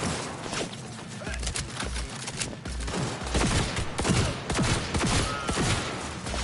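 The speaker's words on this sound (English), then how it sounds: "Firing at close range!" Close-range gunfire in the video game Cyberpunk 2077, a rapid run of sharp shots and bursts over busy game noise, loud and near throughout.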